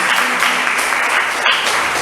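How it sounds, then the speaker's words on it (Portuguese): A church congregation claps together in a brief, dense burst of applause that fills the room evenly for about two seconds, with no voices over it. "Dá uma salva de palmas aí para Jesus."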